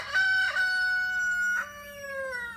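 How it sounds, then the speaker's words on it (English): A chicken crows loudly and close, a drawn-out harmonic call followed by a shorter falling note, with no talk over it. "Oh, Olive chicken"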